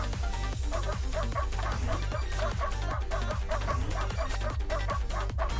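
A corgi barks repeatedly in the video game Protocorgi, short game-sound yips recurring in a steady rhythm over loud, busy music, with no talk.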